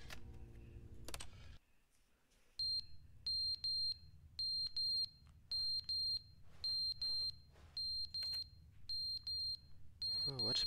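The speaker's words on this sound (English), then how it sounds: "Oh, what's beeping?" Repeated high electronic alarm beeps inside a video game, sounding in a steady even rhythm of short bursts, clear and alone after a brief stretch of talk and a quiet pause at the start.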